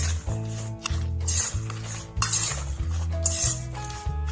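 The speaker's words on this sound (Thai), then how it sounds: "คลุกให้น้ำยำมันเคลือบตัวโปรตีนเราให้ทั่วทุก ตัวเลยนะครับ" Fried pork salad for a vegetarian nam tok dish being tossed with dressing in a bowl, with a string of close, bright clinks and scrapes of a utensil against the bowl in uneven bursts, no voices.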